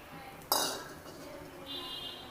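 A metal spoon gives a single sharp clink against a pan as oil goes in for tomato chutney, followed by quiet kitchen background.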